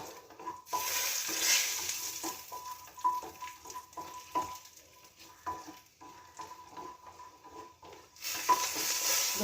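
Cashew nuts frying in a pan while being stirred, a soft bubbling sizzle broken by repeated utensil scrapes and clinks against the pan, with a faint steady hum behind.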